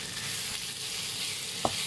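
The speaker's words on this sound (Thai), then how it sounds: "พอกระเทียมเริ่มหอมไอ้เริ่มไปน้ำเหลืองแล้วเราก็มาใส่เนื้อหมูเลยค่ะ" Pork sizzling in a hot pan with fragrant garlic as it is stir-fried, a steady loud frying hiss with one brief clink of a utensil near the end.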